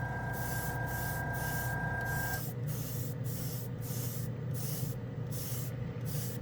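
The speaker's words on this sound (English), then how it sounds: "I'm also going to spray this on a clear spoon" Ammo A-Stand chrome paint sprays from an airbrush onto a clear plastic spoon, a close, continuous hiss broken into a run of short rhythmic bursts after an initial steady stretch.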